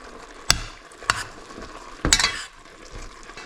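A seasoning blend being stirred into wild turkey chili in a pot, with three or four distinct scraping strokes of a spoon over a soft background sizzle, close and clear.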